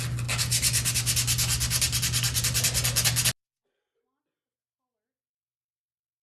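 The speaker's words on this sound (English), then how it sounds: "I think what I'm actually going to do is I'm just going to sand it a little bit." Sandpaper rubbed over a painted wooden craft piece in quick, even back-and-forth strokes, close and loud, before stopping abruptly into silence.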